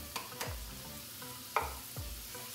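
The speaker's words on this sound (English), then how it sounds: "So we're going to now add our potatoes." Potatoes are added to a frying pan and stirred, bringing a faint sizzle and a few distinct scrapes and knocks of a utensil, with no talking.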